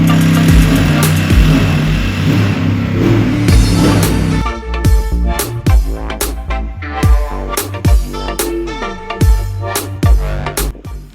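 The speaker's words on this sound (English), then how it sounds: "Hop Racing team was testing the Mercedes after running the 24 hours." A Mercedes race car testing at the Nürburgring, heard as a loud, close engine that idles roughly and then gives a series of sharp, repeated revs and throttle blips with brief dips in between, with no voices.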